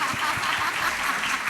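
An audience at a Malayalam public talk applauds, a dense, steady wash of many hands clapping together at moderate loudness for the whole short stretch, with no voices over it.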